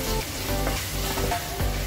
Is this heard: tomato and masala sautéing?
yes